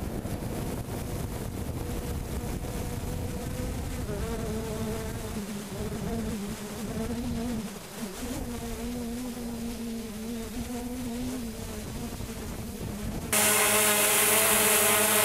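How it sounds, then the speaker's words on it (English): Camera drone hovering about ten feet off the ground, a steady loud insect-like whine of rotors with a shifting pitch and wind buffeting, growing harsher and noisier near the end. "It'd be really hard to conceal the noise, let alone the lights that you're seeing on the copter."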